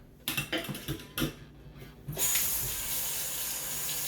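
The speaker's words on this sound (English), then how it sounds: "Fill both of these with hot water." A few clanking knocks, then steady running hot water pours from a faucet into a sink, a continuous hiss that fills the rest of the clip.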